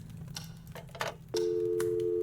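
A telephone in the horror adventure game Scratches starts ringing partway through, a steady electronic ring tone that holds loud and alone after a brief stretch of quiet room ambience.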